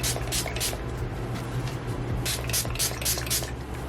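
A spray bottle mists water onto hair in quick, close bursts: two or three spritzes, a short pause, then a faster run of about six more, each a crisp hiss over a faint steady room hum.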